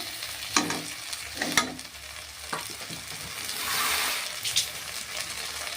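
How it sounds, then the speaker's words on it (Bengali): Water poured onto sizzling masala in a pan for a Bengali-style rohu fish curry, sharp stirring clatters over a crackling fry that swells into a hissing rush as the water hits, no speech. "অল্প জল অ্যাড করছি, অল্প।"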